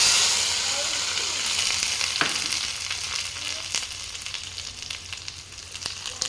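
Chillies and curry leaves fry in hot oil in a pan for a dondakaya pachadi, giving a loud, continuous sizzle with crackling pops and stirring scrapes that slowly ease off.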